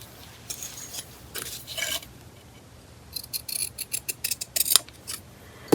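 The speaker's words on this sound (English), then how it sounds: "Maybe we need the pinking shears." Pinking shears cut through fabric in a run of close, crisp snips and crunching blade sounds, sparse at first and then quicker and louder toward the end.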